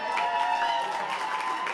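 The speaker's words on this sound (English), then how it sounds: "Give them a cheer." A comedy-show audience gives a brief burst of cheering and applause for the night's winners, a dense crowd roar heard at moderate distance.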